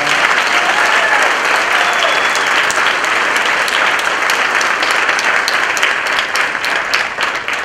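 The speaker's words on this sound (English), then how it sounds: "let's give our students another round of applause." An audience at a school recognition ceremony gives a loud, sustained round of applause for students, dense clapping holding steady throughout and tapering slightly at the end.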